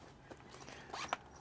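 The zipper on the front pouch of a Fieldpiece carrying case gives a quick, faint zip with a couple of short rasping pulls close by.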